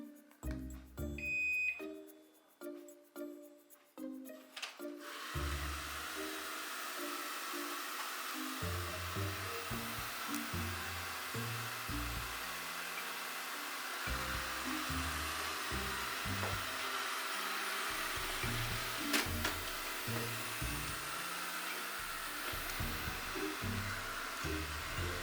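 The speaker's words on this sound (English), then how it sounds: "So right here the vacuum performing in the hard floor mode." Ecovacs Deebot 600 robot vacuum in hard-floor mode on a hard floor, starting with a quick series of beeps and tones, then a steady whirring motor and brush hum running continuously at low level, with occasional small knocks.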